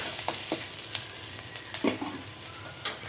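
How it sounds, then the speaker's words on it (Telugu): Green chillies roasting in hot oil in a pan, a continuous sizzle broken by several light scraping stirs and taps of a spatula, close and with no talking. "పచ్చిమిర్చి ఒక్క నిమిషం ఇలా అటు ఇటు రోస్ట్ చేసేసి"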